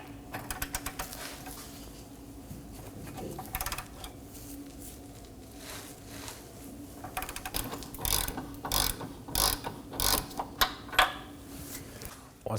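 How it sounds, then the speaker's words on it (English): A ratchet wrench with a 24mm socket breaking free a bolt on a 2020 Toyota Corolla front control arm, quick ratcheting clicks in short bursts, faint at first and growing louder and more rhythmic later, with no talk. "grab a wrench and a 24mm socket and break it free"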